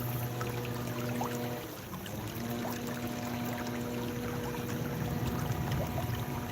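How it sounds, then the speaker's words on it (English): River water flowing in a steady, broad wash of noise, constant and fairly close, with a faint low hum running beneath it and no voices. "I was hoping to capture this sound and nice quality picture in the river"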